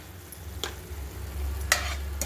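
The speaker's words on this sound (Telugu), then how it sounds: "బాగా అన్నీ వార్చుకోండి. బాగా కలపెట్టుకోండి గ్రేవీ." Spiced gravy stirred in a pan: a low, steady sizzle runs throughout, with a few soft scraping strokes of a spoon standing out over it, close and moderately quiet, and no voices.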